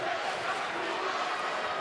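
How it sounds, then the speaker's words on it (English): Green Bay fans cheer steadily at a college basketball game against Milwaukee, a dense, continuous crowd roar with voices mixed in and no clear breaks. "Very enthusiastic Green Bay cheering section"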